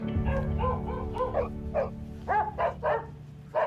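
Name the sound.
dog barking in Riverdale TV episode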